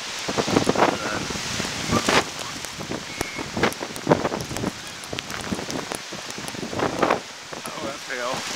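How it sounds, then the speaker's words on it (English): Hail patters and clatters in dense, irregular bursts during a severe thunderstorm in Oakland, with wind buffeting the microphone and people talking over it. "Oh, that's hail. Yeah. Getting hailed on here."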